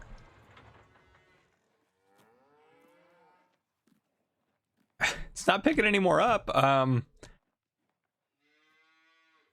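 A cow in the farming game Farming Simulator 19 lets out one loud, close, drawn-out moo lasting about two seconds, framed by softer lowing before and after, with someone talking quietly at the start.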